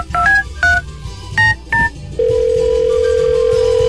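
Touch-tone telephone keys are pressed in quick succession, about five distinct beeping dial tones, followed by a steady sustained line tone, loud and close.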